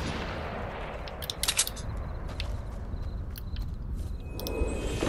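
Scattered gunshots ring out in Fortnite, a few sharp reports around the first seconds over a steady noisy game background, fairly distant rather than close.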